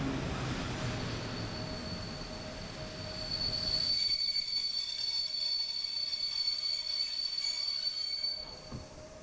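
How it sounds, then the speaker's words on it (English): A passenger train hauled by an EP09 locomotive rolls into a platform with a high, piercing wheel squeal that rings steadily, the rumble dropping away as it slows, then a faint clunk near the end. "our train pulls into the platform"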